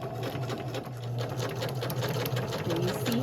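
A Kenmore 385 sewing machine runs a zigzag stretch stitch on a strip of elastic, giving a steady fast mechanical whir and clatter at close range, continuous throughout with no talking.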